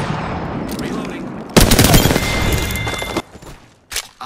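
Dense gunfire in a video game shootout, a loud rapid burst of automatic shots close by that trails off into scattered bangs.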